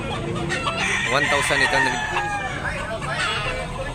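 Several roosters crow and hens cluck close by at a chicken market in Tabunok, Talisay, Cebu, overlapping calls rising and falling continuously, with some background noise.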